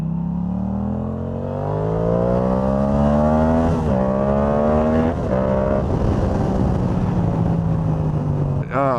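A Yamaha R7 motorcycle fitted with a full system exhaust revs, its engine tone climbing and dipping through several throttle blips, loud and near, with a voice talking over parts of it.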